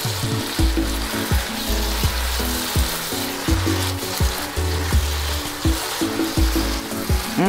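A lobster sizzles as it cooks in a pan. A continuous close frying hiss is broken by repeated clacks and scrapes of stirring in an uneven rhythm, with no one talking.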